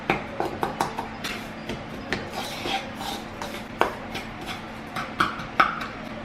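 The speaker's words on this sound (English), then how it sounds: "And you just want to mix it and whisk it around. Get all the clumps out." A whisk works a spice mixture in a bowl to break up clumps for a peach cobbler pound cake, giving a run of light, irregular metallic clicks and taps against the bowl, close and fairly quiet, with no voices.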